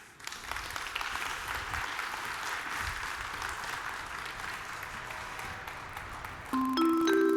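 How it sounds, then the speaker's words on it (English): Sustained applause from a conference crowd welcoming a speaker on stage, steady clapping throughout, with a brief electronic tone appearing near the end. "please welcome on stage with a warm big applause our next speaker, Colin Breck"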